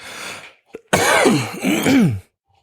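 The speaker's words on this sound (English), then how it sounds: "I just got a cough. Hold on." A single harsh cough followed by a longer, strained throat-clearing and groaning sound, close and loud, with silence on either side.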